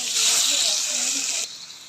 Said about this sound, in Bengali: এখন কচুটা ছেড়ে দেবো